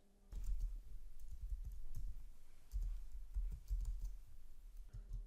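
Computer keyboard typing while writing PyQt6 code: a steady run of soft keystroke clicks, close and fairly quiet, with brief pauses between bursts.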